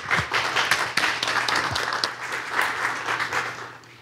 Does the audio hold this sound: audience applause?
yes